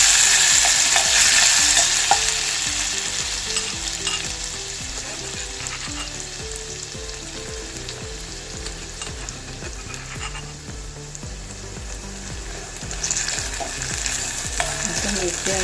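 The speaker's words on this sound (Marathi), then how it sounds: "ठेचलेलं वाटण घालूया।" Crushed spice paste, including chillies, frying in about half a ladle of hot oil for a kokum curry: a strong continuous sizzle, louder at first, with rhythmic stirring and scraping against the pan, no talking.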